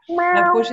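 A cat meows in a drawn-out, wavering call lasting under a second, close and fairly loud, with a voice speaking briefly over it in a home setting during a live broadcast.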